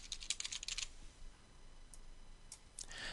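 Quick bursts of keystrokes on a computer keyboard entering a name in a configuration program, a rapid cluster of close clicks at the start, then scattered taps and a final short run, with no talk.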